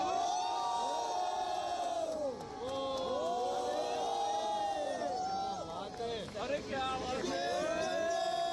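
A crowd cheers and shouts as an Air India Boeing 747 with four engines takes off on its last flight. Voices rise and fall in a dense, continuous roar, with shrill whoops cutting through near the end.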